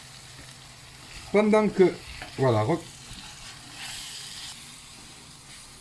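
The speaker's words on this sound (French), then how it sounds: "نخليه يزيد يتقلى شويه الدنجال تاعي ونمرس فيه" Chopped eggplant frying in a pan with garlic, onion and parsley, a steady soft sizzle and hiss throughout while someone speaks briefly over it.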